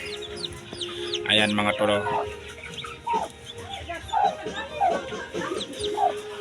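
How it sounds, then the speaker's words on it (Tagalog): Newly hatched chicks cheep in short, high peeps scattered through the scene, while someone talks over them nearby. "Ito mga tol ang bagong pisang mga manok ko"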